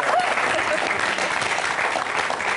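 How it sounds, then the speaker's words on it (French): Studio audience applause on a French-language Algerian television show, a dense, steady clapping heard close and continuous throughout. "Alors, applaudissons notre."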